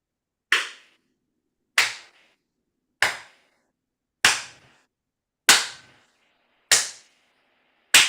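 Seven sharp, evenly spaced claps ring out about once every 1.2 seconds, each crisp and fairly close, with no talk over them.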